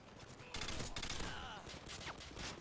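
Quiet bursts of automatic gunfire from the 2009 video game Modern Warfare 2 rattle on and off, muffled and somewhat distant, with no talk.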